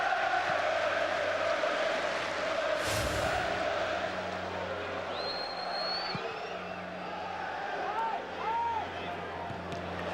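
Large football crowd at an FA Cup match between Leeds and Arsenal, a steady roar of shouting and noise filling the stadium from start to finish, swelling slightly at moments, with a commentator talking over it.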